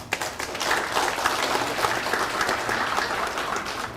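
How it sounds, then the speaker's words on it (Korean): A hall audience at a Saenuri Party Daejeon city chapter policy talk show applauds the city party chairman, dense sustained clapping filling the room at full volume throughout, with no speech. "정윤기 시당위원장님께 다시 한번 박수 부탁드리겠습니다."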